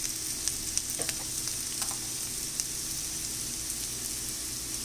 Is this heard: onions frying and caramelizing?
yes